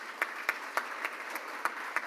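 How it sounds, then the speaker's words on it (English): Sparse, evenly spaced claps at a Rotary Club awards presentation, about eight distinct hand claps in a slow steady rhythm, soft and somewhat distant over a faint room hiss. "Round of applause for Poppy"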